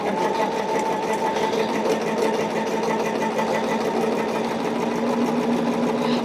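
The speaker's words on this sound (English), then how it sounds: "About to sew it on the same side I already sewed it on." A sewing machine runs continuously, stitching quilt fabric for a woodland half-yard quilt in a loud, steady, close mechanical whir with a rapid, even needle rhythm.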